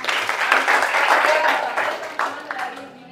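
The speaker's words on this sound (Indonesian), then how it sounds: "Oke, tepuk tangan." A classroom of students claps together in a brief, lively burst during a Pancasila lesson, loud at first and then tapering off into a few scattered claps.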